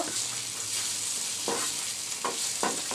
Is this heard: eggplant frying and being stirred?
yes